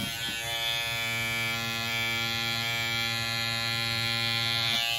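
Electric rug-tufting carving tool shaving a tufted rug, a steady close, loud motor buzz with a strong harmonic hum held continuously throughout, stopping near the end.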